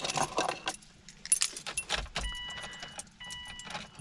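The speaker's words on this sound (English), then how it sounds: "So let's get the key." Car keys jangle in short metallic bursts near a Subaru project car with a right-hand-drive JDM setup, followed by faint electronic chimes inside the cabin.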